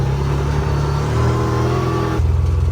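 A Can-Am Commander 1000X side-by-side rumbles loudly while driving off-road, a steady mid-pitched engine drone that shifts gear and note partway through, close and continuous.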